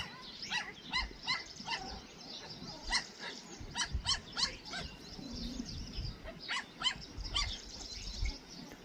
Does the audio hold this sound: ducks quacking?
no